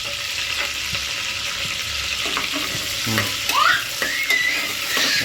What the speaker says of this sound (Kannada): ಎಣ್ಣೆ ಕಾದಿದ ತಕ್ಷಣ ಪುದೀನ ಸೊಪ್ಪು ಹಾಕ್ತಾಯಿದ್ದೀವಿ